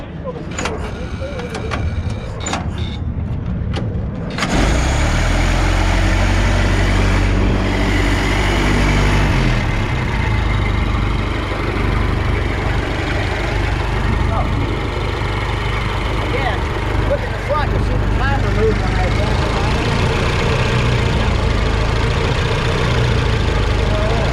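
An old Ford car engine catches after a few seconds of handling noise and settles into a loud, steady, rough idle that runs on uninterrupted, with someone talking over it at times.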